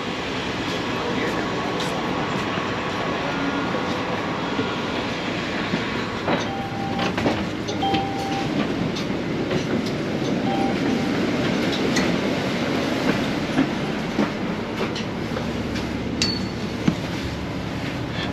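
An ION light rail train rolls along the line, a loud continuous rumble with rattling carriage noise and scattered clicks and clinks from the wheels and car body, heard from inside with no clear talk.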